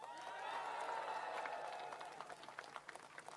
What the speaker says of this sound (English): can we get a round of applause for all these great candidates that have joined us tonight?